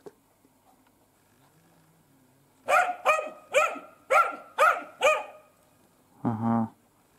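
A Laika dog barks at pigeons in six loud, evenly spaced barks close by, ending with a short whining yelp, with no talking.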